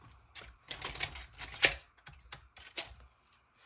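Scissors snip repeatedly in short, crisp bursts at close range while crafting a puppy figure, several cuts spread irregularly across a few seconds with no talking.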